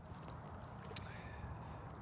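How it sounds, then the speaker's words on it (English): Steady wind buffets the microphone with a constant low rumble and broadband rushing, no pauses, loud and close throughout. "it's a little cold and windy out here"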